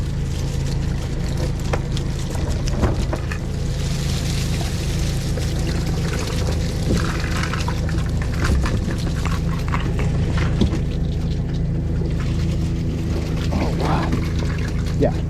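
Spot shrimp being poured out of a trap pot aboard a boat on Puget Sound, a rushing, rattling spill of water and shrimp over a constant low engine drone, with scattered knocks and handling clatter.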